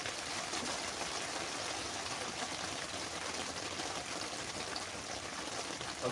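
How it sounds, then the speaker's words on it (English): Steady rain comes down on a hot tent with a wood stove inside, producing a constant rushing hiss with a watery, trickling texture and no talking. "Rain is coming down."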